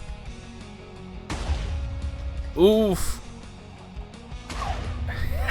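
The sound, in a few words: explosion impact in a video game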